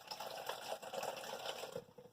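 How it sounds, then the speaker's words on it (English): Water pours in a steady, close trickle into a cooking pot being readied to boil ravioli in a pressure cooker, a continuous splashing fill lasting about two seconds with no talk. "Put a little water in it."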